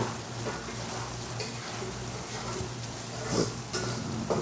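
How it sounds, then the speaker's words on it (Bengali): A spiny eel (baim fish) curry is stirred and sautéed in a pan, giving a soft, steady sizzle with occasional light scrapes and taps of the spoon against the pan, fairly faint and without talk. "লাড়াচাড়া দিয়ে আর একটু কষাইতে দিব"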